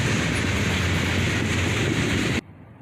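A train rumbling steadily past on the main line, a loud close broadband roar that holds evenly for over two seconds and then cuts off abruptly.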